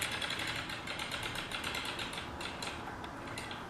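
A circular sock knitting machine cranked around once, giving a close, steady mechanical whir with fine rapid clicking of needles and gears, fairly quiet and without talk.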